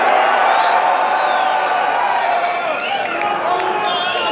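Concert crowd cheering and screaming at a death metal show in Los Angeles, a dense, loud roar of voices and whoops sustained throughout with no clear break.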